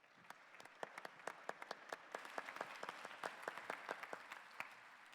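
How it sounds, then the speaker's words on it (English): Audience applause closes a panel session on climate risk and natural catastrophes at a conference, a steady crowd of many hands clapping with crisp individual claps standing out throughout. "Please join me in a round of applause."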